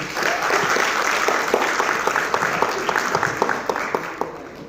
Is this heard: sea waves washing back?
no